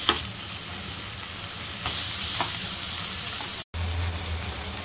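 Rawas fish, a masala fry, sizzling steadily in a hot pan, a loud continuous hiss that swells partway through, with a brief cut before the frying noise resumes.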